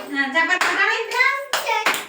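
A few sharp hand claps land among a group of children chanting together in unison, close and fairly loud, with the voices carrying over most of the clip.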